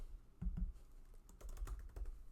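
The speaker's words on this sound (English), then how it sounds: "I am going to go to text, and I am going to type in hello." Someone types a short word on a computer keyboard, a handful of quiet, close key taps in an uneven rhythm, with no talk.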